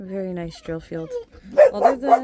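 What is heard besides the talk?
dogs barking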